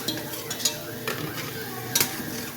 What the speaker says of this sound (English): going to keep stirring this because I don't want the garlic to burn